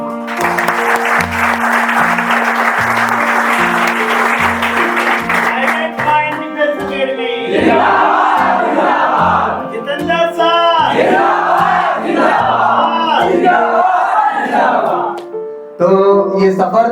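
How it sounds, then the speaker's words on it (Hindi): A crowd claps loudly for about six seconds at a coaching academy's third-anniversary celebration, then the applause gives way to someone speaking over a noisy hall. "मैं आप सबके लिए ताली बजाता हूँ"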